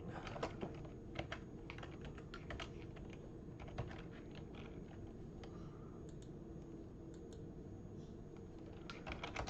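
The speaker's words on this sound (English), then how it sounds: "let's type in nvm use 14" A computer keyboard is typed on steadily as a terminal command is entered, with quiet, rapid key clicks in uneven bursts that run throughout, close and faint with no talking.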